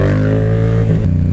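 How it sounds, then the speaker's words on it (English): Yamaha FZ07 motorcycle exhaust note, a loud, close, steady engine drone with a strong low rumble that shifts pitch briefly near the end, with no talking. "Holy smokes, this exhaust is awesome."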